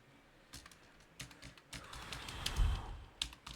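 Keys tapping on a computer keyboard in scattered bursts of quick clicks, fairly faint and close, with no talking.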